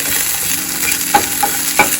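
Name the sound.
meat browning in a pan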